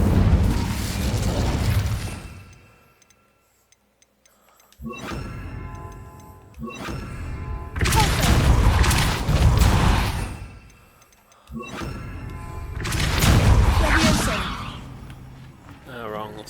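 In Hogwarts Legacy, a cast Incendio fire spell sets off heavy booming, whooshing bursts of flame in loud surges with near-silent gaps between them, and a voice speaks in places.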